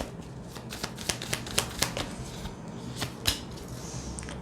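Tarot cards laid out one by one for a reading, a run of crisp card snaps and slaps close by, roughly a dozen sharp hits in an uneven rhythm with no talk.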